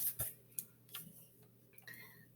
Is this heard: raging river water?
no